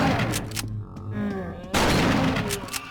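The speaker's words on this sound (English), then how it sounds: "We finally get into the hospital, good old New York hospital, where I get to really try out my shotgun." Shotgun blasts in the video game Christmas Ruins, fired inside a New York hospital: a couple of loud, close booms with a quieter gap between them.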